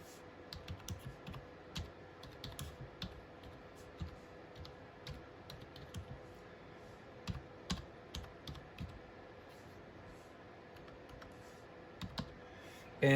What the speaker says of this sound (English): You just type in Mountain View.